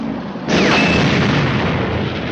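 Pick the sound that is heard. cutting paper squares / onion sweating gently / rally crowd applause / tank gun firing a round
tank gun firing a round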